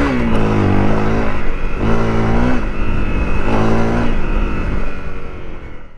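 A 2018 Honda CRF 250L dual-sport motorcycle engine runs loud and close on a wooded night trail ride, rising and falling through several revving surges with a steady drone between them.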